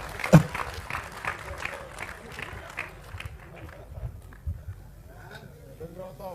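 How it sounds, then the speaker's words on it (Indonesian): Audience at a religious gathering claps along on cue, rhythmic handclaps fading over a few seconds beneath a speaker's voice, then giving way to talk and scattered noise. "Tepuk tangan semua"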